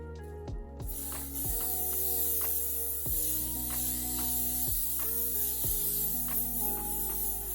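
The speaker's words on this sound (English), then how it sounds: "I'm just gonna hairspray this side again." Hairspray misted over pin-curled hair in a series of short hissing bursts, about six sharp sprays with each can press at an uneven pace, close and fairly loud over a quiet room, with no voices.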